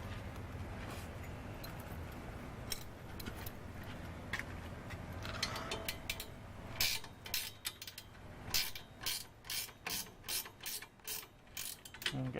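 A ratchet tightens a nut on an ALTA SIX GPR assembly, first quiet mechanical fiddling, then a run of close, crisp clicking strokes that grow regular and louder toward the end.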